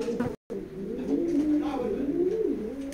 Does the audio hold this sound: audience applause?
no